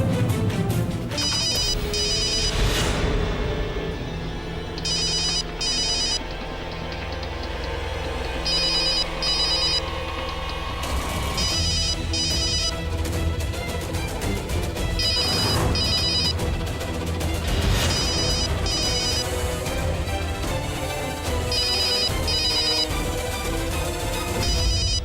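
A phone ringtone repeats in a steady electronic pattern for the whole stretch, loud and close, set in a Hindi TV drama household with a music bed underneath and no talking.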